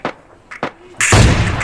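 A single sharp, loud shot from an AWM sniper rifle in PUBG Mobile Lite rings out near the end, following a couple of brief soft clicks.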